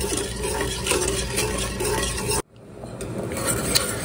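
Orange sauce mixture being stirred in a pot, a steady close scraping and swishing that cuts off abruptly partway through, then resumes more faintly.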